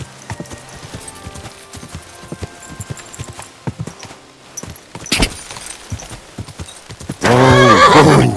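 Hooves clop in an uneven rhythm, followed by a loud, sudden horse whinny at the end, in the video game Kingdom Come: Deliverance 2.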